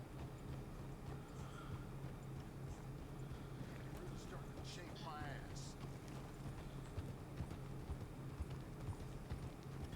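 Horse hooves clip-clop steadily on a trail ride in the game Red Dead Redemption. The hoofbeats are faint under a constant ambient bed, with no clear speech.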